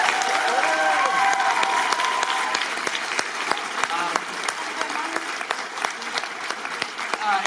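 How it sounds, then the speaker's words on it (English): Convention hall audience applauding at the end of a Doctor Who panel at San Francisco Comic Con, loud sustained clapping with some cheering that thins gradually toward the end. "Let's all give one round of applause for Jenna Coleman"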